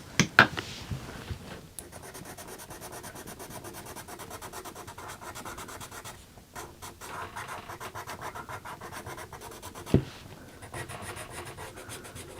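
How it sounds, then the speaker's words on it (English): A blending pencil scratches firmly across paper while colouring a planner page, giving a continuous dry rasp with quick rhythmic strokes and a couple of sharp taps, close and alone without any voices. "Pressed quite hard with the blending pencil."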